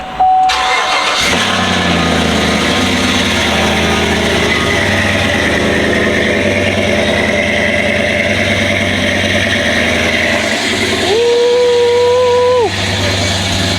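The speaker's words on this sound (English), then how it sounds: "There you go, cold start." A large truck engine, unused for about two weeks, cold-starts: it cranks and catches, roaring up loudly before settling into a rough, steady idle with a brief rise in revs near the end.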